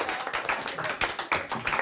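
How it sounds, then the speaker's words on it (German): Live audience applauding a performer at a FluxFM radio session in Friedrichshain, a steady wash of hand claps with a few louder bursts, fairly close. "nochmal einen großen Applaus für Christian Steifen"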